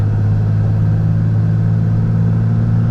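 Diesel truck fitted with 125hp DDP injectors and a Mishimoto intercooler accelerating at half throttle, a loud, steady low engine drone close by, throbbing without letup and rising only slightly.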